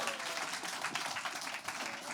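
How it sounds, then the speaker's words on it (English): Audience applause for curator Hans Ulrich Obrist at an on-stage conversation event, dense and even clapping from a crowd, fairly quiet and without talk. "please give a round of applause for Hans Ulrich Obrist"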